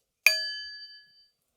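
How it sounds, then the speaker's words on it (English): A meditation bell is struck once, giving a bright, clear ding that rings on and fades away over about a second in quiet surroundings. "A meditation bell, gong, whatever you want to call it."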